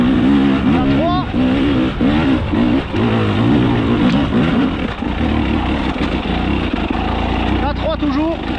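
A Husqvarna 300 TEi two-stroke dirt bike with a remapped ECU revs and accelerates in third gear, its engine note rising and falling in repeated sweeps close by, while a rider talks over it.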